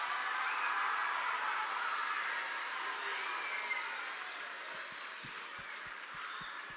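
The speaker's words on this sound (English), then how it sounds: "Let's give one last round of applause to all the graduates." A crowd at a fifth-grade DARE graduation applauds the graduates in a steady wash of clapping that gradually softens, while a few low thumps show up near the end.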